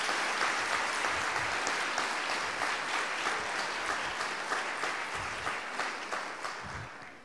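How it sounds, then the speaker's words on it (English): A conference audience in Mons, Belgium, breaks into sustained, even applause that holds steady and then slowly fades toward the end, with no voices. "Alors, je propose qu'on applaudisse ça."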